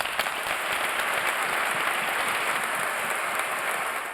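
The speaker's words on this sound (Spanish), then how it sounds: "Discurso desde el corazón que han arropado los presentes con un fuerte aplauso." Gathered audience gives a strong round of applause after a heartfelt speech, sustained dense clapping that stays fairly even and eases slightly at the end, with no speech over it.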